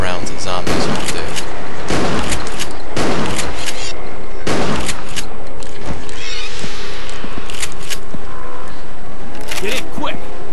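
Rapid bursts of gunfire aimed at zombies in the Resident Evil: Darkside Chronicles game, loud sharp shots in clusters over several seconds, fading to quieter sounds and a voice toward the end.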